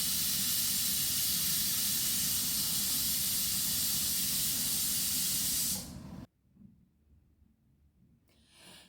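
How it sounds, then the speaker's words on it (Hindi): A pressure cooker holding mutton stew vents steam in a loud, continuous hiss that cuts off abruptly near the end, leaving a quiet kitchen. "मैं अब इसकी स्टीम निकालूंगी और कुकर खोलूंगी।"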